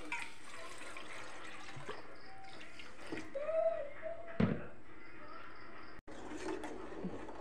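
Water poured from a bowl into a pan holding a bowl of sugar to make syrup for rice-flour pitha, giving a faint, soft trickle and splash in a quiet home kitchen, with a few small clinks.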